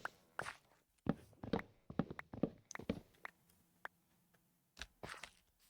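Chopping a tree in Minecraft: a string of short crunchy hits, some in quick pairs, then a pause before a few more chops near the end, close and fairly quiet.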